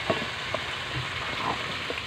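Cabbage and Chinese pechay fry in a pan with a soft, steady sizzle and a few light stirring clatters. The whole thing is brief.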